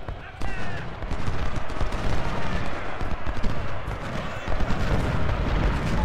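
Musket volleys and gunfire crackle without pause across a Civil War battle at Chickamauga in Ultimate General: Civil War, a dense stream of overlapping shots and booms that comes both near and distant, with a voice speaking over them.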